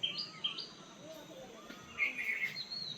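Forest birds near Gorumara calling on a cloudy, rainy day, short high chirps and a longer trilling phrase, moderately close over quiet background.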